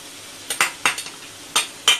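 Chicken masala is bhuna-fried in oil, with a spoon scraping and clinking against the pan in several sharp strokes over a faint sizzle. The strokes come in two loose pairs, close and distinct.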